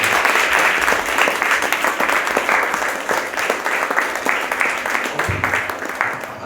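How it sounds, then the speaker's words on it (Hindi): Sustained applause from an audience at a Christmas church celebration, dense clapping that holds steady throughout and tapers slightly toward the end, with some voices mixed in. "तो आइए उनके लिए let's just clap for them"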